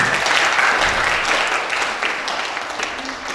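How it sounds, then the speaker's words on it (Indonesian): An audience at an Indonesian fine-arts discussion forum applauds three speakers, loud sustained clapping that slowly tapers off. "Kita beri aplaus kepada tiga narasumber."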